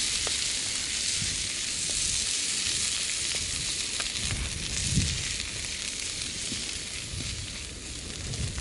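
Chilli with tinned tomatoes cooking in a pan at a wild camp, a continuous close sizzling hiss with soft scraping and occasional taps as it is stirred.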